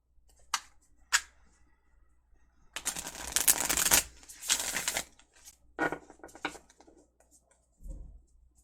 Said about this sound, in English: Let me just shuffle and see if that helps things.